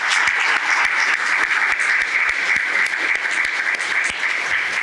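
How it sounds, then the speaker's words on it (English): At a United States citizenship ceremony, an audience gives a round of applause for young men and women of a color guard, with loud, sustained clapping and distinct sharp individual claps throughout. "could I have a round of applause for these young men and women?"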